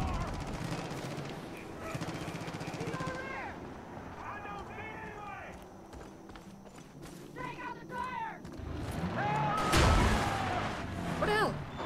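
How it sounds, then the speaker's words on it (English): Gunfire in Far Cry 5 mixed into a busy game soundscape, with bursts of shots and other action noise layered under someone talking throughout. "Who's shooting who?"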